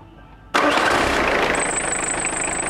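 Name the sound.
car engine starting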